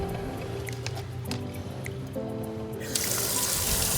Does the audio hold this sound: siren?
no